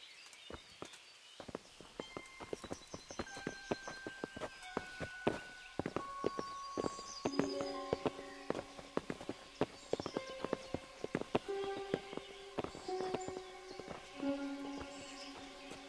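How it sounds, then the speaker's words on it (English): Horse hooves clip-clop in a steady walking rhythm over a sustained, melodic musical score, close and distinct, in the video game Kingdom Come: Deliverance. "Bring the horses."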